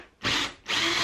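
Power drill boring holes into an old pipe, two loud sustained bursts of whirring separated by a brief pause, close and alone.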